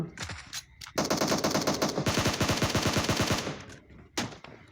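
Automatic weapon fire in a battle royale shooting game: a few scattered shots, then a long, loud, rapid burst lasting about three seconds before it cuts off, followed by one more isolated shot.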